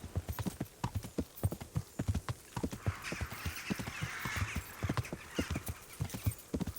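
Horse hooves clip-clop steadily while riding in a video game, a quick rhythmic gallop of close, loud hoofbeats with a soft wind-like rush in the background.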